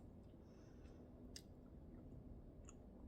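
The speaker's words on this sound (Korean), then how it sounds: "생쌀을 씹다." Someone slowly chewing a mouthful of raw brown rice, faint soft grinding and squishing close to the microphone against a quiet background, with a few tiny clicks.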